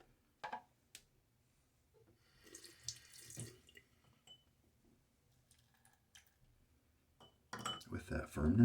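Water runs briefly from a tap into shaving lather near the end, preceded by faint clinks of utensils and soft handling sounds in a quiet room.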